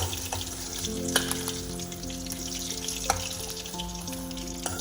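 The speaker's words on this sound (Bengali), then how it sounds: "বাকি মাছগুলো আমি ভেজে নেব।" Close, steady sizzling of fish frying in hot oil, an even crackling hiss with a couple of sharper clinks or stirring knocks, no talk.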